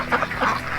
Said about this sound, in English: that was mostly our Pekin ducks, our Welsh Harlequin, and a couple Indian runners